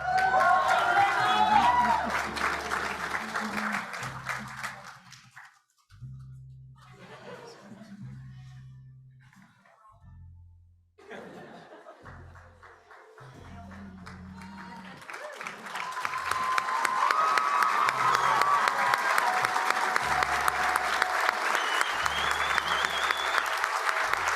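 Audience applause at a Doctor of Physical Therapy white coat ceremony: sustained clapping from a large indoor crowd, softening in the middle under brief talk, then swelling again into a long, loud round.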